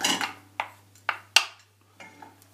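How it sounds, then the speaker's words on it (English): Coconut oil dropped into a cooking pan to melt for homemade soap: a few sharp separate thuds and clatters against the pan, close and clear in a quiet room, with no talking. "put our coconut oil into our pan and literally just throw it in"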